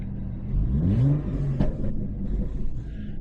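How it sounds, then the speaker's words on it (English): Steady low exhaust rumble from a BMW E92 335i with the N54 engine after ECU tuning, idling close by with a slight engine swell partway through and no talk. "I don't know if you can hear that slight rumble from the exhaust"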